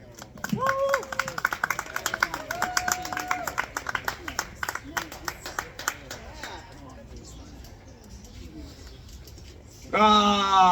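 Audience applause at a storytelling event, scattered claps under a speaking voice that thin out and fade midway, leaving quieter room noise before another voice starts loudly at the end.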